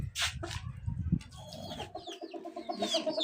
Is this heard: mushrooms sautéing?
no